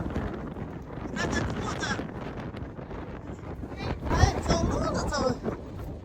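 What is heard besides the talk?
strong wind in Torres del Paine National Park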